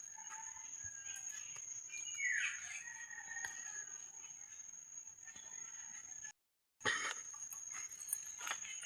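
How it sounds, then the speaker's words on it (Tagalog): Birds chirping on a rural coconut farm after heavy rain, scattered small calls and tweets over a steady high insect-like drone, moderately distant, with a brief dropout near the end. "Daming ibon dito guys."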